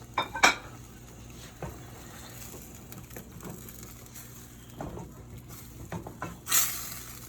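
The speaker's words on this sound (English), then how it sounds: "I'm gonna put in my salt mackerel into the pot" Salt mackerel for a Jamaican rundown goes into a cooking pot with a sharp clatter of metal and utensils early on, followed by softer scattered knocks and a faint low sizzle, ending in a brief hiss.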